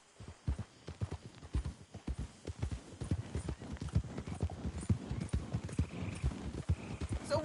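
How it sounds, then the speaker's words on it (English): Horse hooves clip-clopping in a PS4 video game, a quick, even run of sharp hoofbeats that sounds close and continuous, with a faint whinny-like tone near the end. "that's one nice-looking horse you got there"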